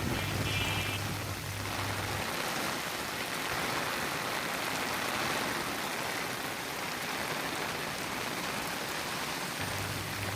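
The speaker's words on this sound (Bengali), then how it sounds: "আজকে অনেক বৃষ্টি পড়তেছে, এত বৃষ্টি দেখি না অনেক দিন।" Heavy monsoon rain pours as a dense, unbroken wash of noise, steady and fairly loud throughout, with no voices.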